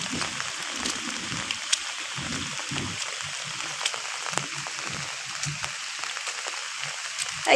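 Evening rain falling outdoors, a steady soft wash of drops with faint scattered patters on surfaces, continuous and even throughout, with no voices heard.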